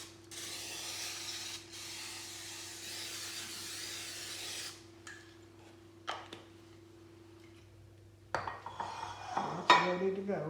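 A cooking spray can hisses in a steady burst onto a bread baking pan, then a short puff, followed by faint clinks and metallic scraping of the pan close by.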